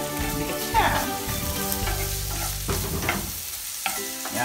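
Beef for Ilocano kinigtot (ginulat na baka) sautéing in a pan, a steady close sizzle with stirring scrapes and a tonal hum running throughout, with no talking.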